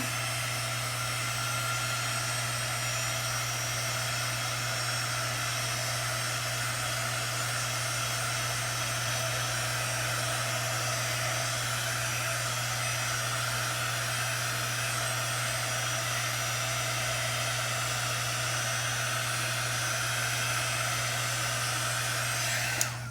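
A hair dryer runs steadily at close range throughout, drying a Dollar Tree craft project, with a constant airy whoosh and a low motor hum and no talking.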